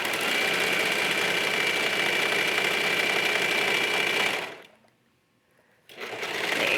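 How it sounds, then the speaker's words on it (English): A 4-thread overlock serger runs steadily around the edge of a pant pocket, a dense continuous whirring buzz that stops abruptly near the end, leaving a short near-silent gap before the motor starts up again. "I'm using a 4-thread overlock stitch because it's a little stronger"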